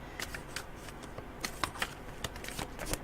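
A deck of cards being shuffled indoors for a psychic reading, giving quick, close, crisp riffling and flicking bursts in irregular clusters over a quiet room.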